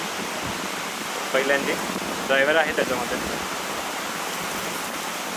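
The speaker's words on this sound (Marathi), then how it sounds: "खूप भयंकर पाऊस आहे" Heavy rain pours in Hinjewadi, a dense broadband roar filling the entire clip, loud and unbroken, with someone speaking briefly over it.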